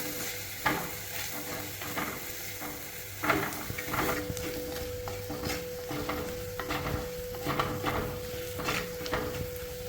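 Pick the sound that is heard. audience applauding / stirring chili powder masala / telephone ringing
stirring chili powder masala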